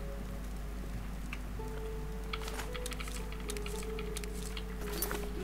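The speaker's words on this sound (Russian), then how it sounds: "На улицу дождь, походу, пошел." Rain falling in The Elder Scrofts IV: Oblivion, a soft continuous patter with scattered brighter droplet ticks, steady and fairly faint throughout.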